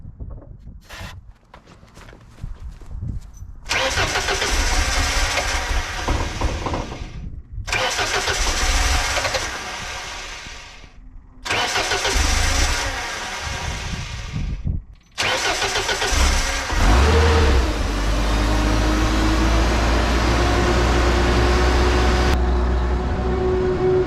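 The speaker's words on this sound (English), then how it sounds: "Turn the ignition on, you push the start button." A JLG 80HX 80-foot boom lift engine is cranked repeatedly, with several loud starter bursts separated by short pauses, then catches and runs at a steady, loud, close idle.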